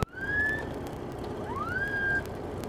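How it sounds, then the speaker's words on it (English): Two rising siren wails from a vacuum-powered siren under the hood of a 1930 Ford Model A Roadster Pickup sweep upward and hold a high tone, the second longer, against a low background rumble; fairly faint and nearby. "a little siren job hooked up off the vacuum under the hood"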